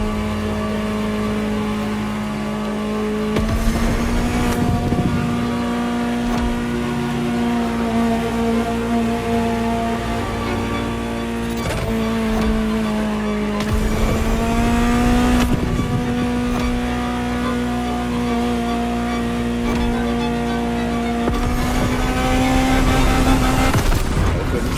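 A Ferrari supercar engine in the racing game The Crew Motorfest drones loudly and steadily for the whole stretch, with a few sharp gear-shift breaks and surges as it accelerates, with no talking.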